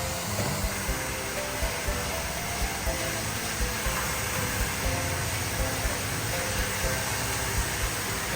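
A hair blow dryer runs at a beauty parlor, giving a continuous, even rushing hiss with faint voices in the background.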